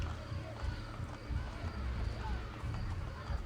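Horse hooves clip-clop on a street in Assassin's Creed Brotherhood, a steady trotting rhythm moving under a murmuring city crowd with a faint wind-like wash.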